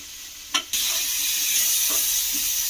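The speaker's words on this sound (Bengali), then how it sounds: "তো টমেটোটা একদম ভাজা হয়ে গেছে" Tomatoes frying in a pan for chutney, a brief sharp clatter and then a loud, steady close sizzle with a couple of soft stirring knocks.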